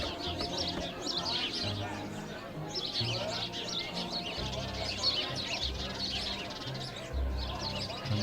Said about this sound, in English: Okay, so the chirping is very, very loud.